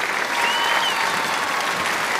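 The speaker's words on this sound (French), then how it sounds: "On les applaudit-tu une dernière fois?" Steady applause from a live show audience thanking the organizers after a performance, dense and sustained clapping filling the whole moment with no pauses.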